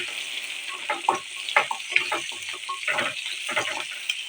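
Onions, garlic and ginger frying in a pan, giving a steady sizzle with bursts of crackle and stirring scrapes at close range.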